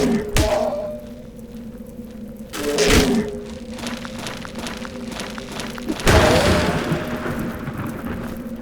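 Bombs explode in a video game in three dull, heavy thuds spaced a few seconds apart over a steady background hum.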